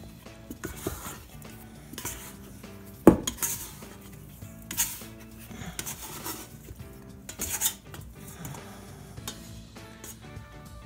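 A scraper works homemade pizza dough around a metal mixer bowl, giving repeated scraping and clinking strokes with a sharper knock near the start, fairly close and with no talking.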